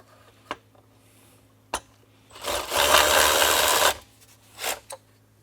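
Small holding screws come out of the fuel rail on an Audi A4 2.0 TFSI intake manifold: a couple of sharp metallic ticks, then a loud buzzing whir of a powered driver lasting over a second, followed by a shorter whir.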